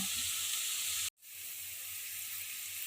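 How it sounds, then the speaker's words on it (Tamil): Okra pieces deep frying in hot oil for a crispy vendakkai 65 snack, a steady loud sizzle with one brief cut-out partway through, no voices. "சிம்லேயே வச்சு வெண்டைக்காய் ஃப்ரை பண்ணியாச்சுங்க"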